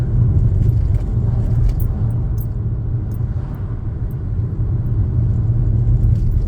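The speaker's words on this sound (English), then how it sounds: "I'm going to clutch down and into fourth gear." A manual car is driven through town by a learner who shifts into fourth gear. A steady, loud engine drone and road rumble continue throughout, with slight dips and a little rattling inside the cabin.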